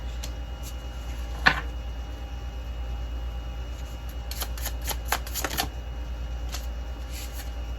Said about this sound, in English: I want to get more cards out before I start